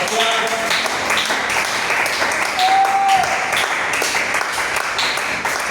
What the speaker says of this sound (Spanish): alguien que siga aplaudiendo su presencia